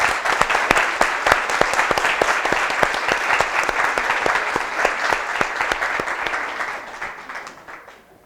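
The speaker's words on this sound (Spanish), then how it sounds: "me gustaría que hicierais un aplauso para vosotros" Audience at a book presentation claps for itself, a roomful of hands producing crisp, distinct claps at a fairly even rhythm, sustained for several seconds before fading out.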